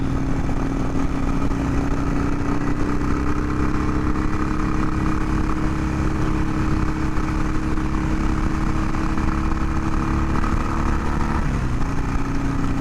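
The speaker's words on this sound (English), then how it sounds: "The bike's just riding so good right now. I'm going to do a little highway riding." A 2020 Harley-Davidson Iron 883 fitted with a Hammer Performance 1250 kit cruises on a highway, its loud engine drone steady and unbroken under constant wind rush for the whole stretch, with no talk.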